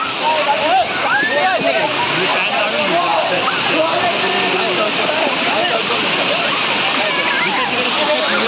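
Rushing waterfall with people splashing water nearby, a loud continuous roar of water with excited voices and shouting over it.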